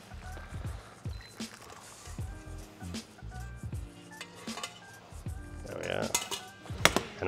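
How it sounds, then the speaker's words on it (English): Boiled ramen noodles and eggs are lifted out of a pot in a kitchen, with close metallic clinks and scrapes of utensils against the pot and dishes coming in irregular bursts, fairly quiet overall. "So now I'm gonna take our noodles and our egg out."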